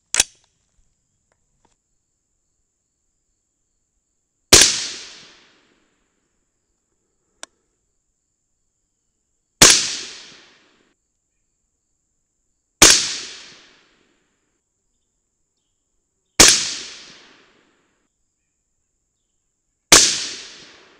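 Rifle firing 55-grain Bob's bullets loaded with 25.0 grains of Varget powder, six sharp single shots spaced a few seconds apart with short decaying echoes, loud against near silence.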